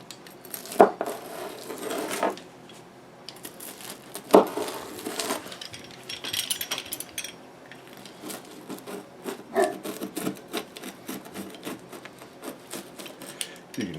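A knife crunches through homemade Little Caesars-style cheese bread with a crisp browned bottom on a paper-towel-covered counter, giving sharp crackling cuts and scraping rasps, close and fairly loud, with no talking.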